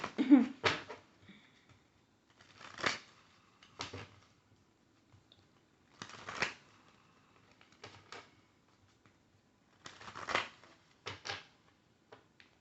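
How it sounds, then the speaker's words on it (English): Several short bursts of riffling tarot cards, each a quick flurry of papery flicks separated by quiet pauses, close and fairly soft. "Okay, the cards want to shuffle, right?"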